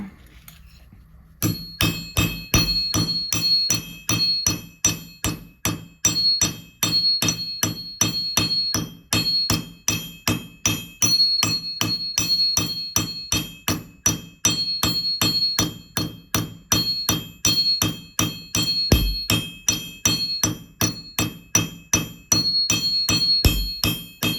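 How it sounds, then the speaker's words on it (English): Rapid, steady hammer strikes on copper, each blow ringing with a bright metallic clang, continuing for over twenty seconds at close range while texturing the metal for earrings. "I'm going to go ahead and grab this hammer"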